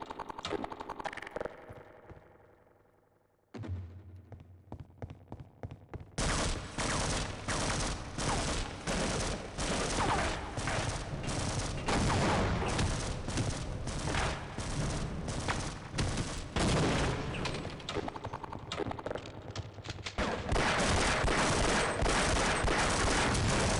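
Sustained rapid turret gunfire in the video game Half-Life: Opposing Force, a dense stream of loud automatic shots lasting many seconds after a few scattered opening shots, with no talk over it.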